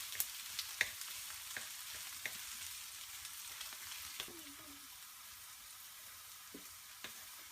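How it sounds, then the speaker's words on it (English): Okra cooking over a high flame in hot oil, with a soft steady sizzle and scattered light clicks and scrapes of stirring, close and fairly quiet; no talking. "So it's just the warm hot oil and the okras cooking."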